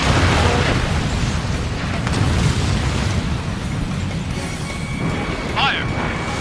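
In the jet combat game Ace Combat Infinity, a missile launches with a deep rumbling roar and booming blast beneath continuous engine noise, followed by a short whistling streak, with radio chatter over the top.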